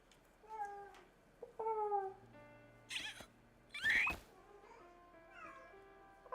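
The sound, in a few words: cat meowing in a video game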